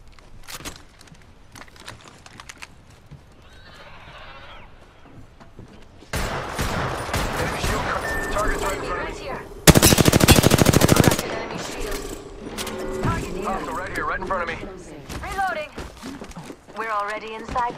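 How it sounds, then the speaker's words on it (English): Automatic weapon fire in the video game Apex Legends, loud rapid bursts of gunshots mixed with game effects, with a player talking over the action. "shots fired and they're hitting me"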